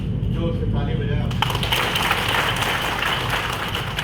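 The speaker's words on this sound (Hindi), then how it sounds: "जोर से ताली बजाया" An audience at a power transmission tower and height rescue safety training session claps loudly, a dense, continuous burst of applause close by with voices mixed in.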